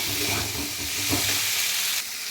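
Soybean chunks and potatoes being sautéed in a pan, giving a steady, loud, close sizzle with a dense frying hiss throughout and no speech.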